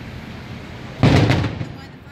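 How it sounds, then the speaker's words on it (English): A single deep, booming Disneyland firework blast erupts after a second of steady background noise, then rumbles and fades away. "Just the firework display?"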